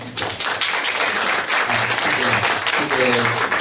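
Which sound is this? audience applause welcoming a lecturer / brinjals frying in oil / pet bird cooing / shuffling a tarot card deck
audience applause welcoming a lecturer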